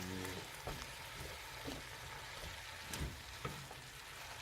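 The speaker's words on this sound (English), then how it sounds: "Frying." Beef for Korean beef stew fries in a small pot, a dense, even sizzle with scattered pops and stirring scrapes, close and continuous with no voices.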